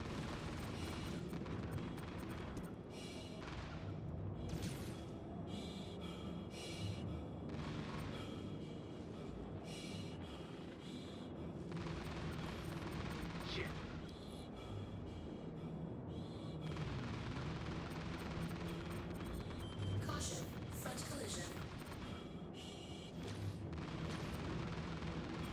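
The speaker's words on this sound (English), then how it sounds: "Somebody's shooting me." Incoming gunfire and heavy blasts in a combat game, a dense, rumbling barrage of repeated booms and cracks that keeps going nearly without pause, loud and close throughout.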